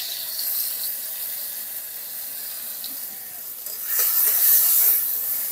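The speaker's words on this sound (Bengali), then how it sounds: "ধুয়ে রাখা গোবিন্দভোগ চাল হালকা করে একটু ভেজে নেব" Washed Gobindobhog rice fries in ghee in a hot wok (kadai), giving a steady close sizzling hiss that grows louder and brighter near the end. No one speaks.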